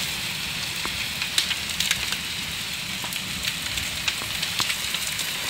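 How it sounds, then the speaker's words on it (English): Hailstones falling outdoors in Newcastle, a steady dense patter with sharp scattered ticks and small clicks on surfaces, heard close and continuous without pause. "that's not the first time I've seen hailstones this time of year"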